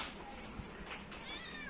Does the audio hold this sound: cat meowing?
yes